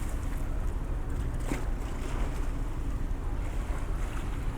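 Steady wind gusts across the open top deck of the cruise ship Pacific Jewel, with waves rushing below as it crosses the Great Australian Bight; a continuous loud roar with no voices.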